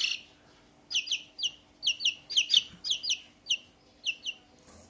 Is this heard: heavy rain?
no